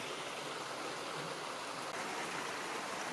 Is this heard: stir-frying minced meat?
no